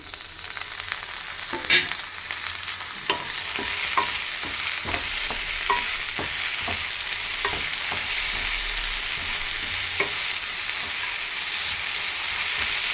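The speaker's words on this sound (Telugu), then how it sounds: "మసాలా అంతా బాగా వేయించుకోవాలి ఫ్రెండ్స్. టమాటాలు అయితే బాగా ఎగిపోయినాయి ఫ్రెండ్స్." Tomatoes and spice masala frying in a pan for sambar, a constant bright sizzle with repeated spoon scrapes and taps at an uneven rhythm throughout, close and fairly loud.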